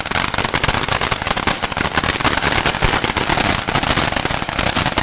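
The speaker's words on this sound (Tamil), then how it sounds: "துப்பாக்கி பயங்கரமா சுட்டுருச்சுப்பா" A children's toy cracker gun loaded with Diwali crackers goes off in a loud, dense, unbroken rattle of sharp bangs and crackles that lasts several seconds, then cuts off abruptly.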